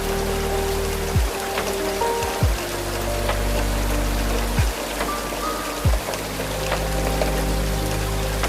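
Steady rain hisses evenly throughout, with a low rumble underneath and a few soft thumps along the way.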